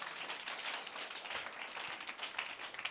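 A church congregation clapping during a sermon, a dense, continuous patter of many hands that sounds fairly faint and distant, with no talking.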